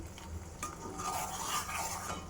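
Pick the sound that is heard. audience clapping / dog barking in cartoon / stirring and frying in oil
stirring and frying in oil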